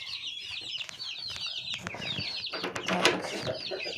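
A flock of hens clucking and chattering continuously, close by, with scattered rustling and a few louder squawks toward the end.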